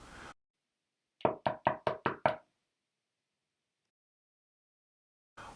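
Six quick, sharp knocks on a front door land in an even, rapid sequence, close and crisp, with silence on either side.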